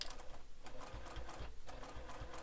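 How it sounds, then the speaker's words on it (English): Sewing machine backstitching along the seam of a fabric bowler bag, with a steady close mechanical whir and a rapid rhythmic needle thump that runs without pause and has no talking. "I got kind of close, so I'm just stitching back around just for some extra security."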